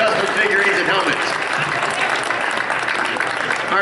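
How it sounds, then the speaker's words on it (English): A crowd claps steadily and loudly throughout at a football event show, a round of applause for a guest, dense and close with voices mixed in. "Y'all give Mr. Steve a round of applause there"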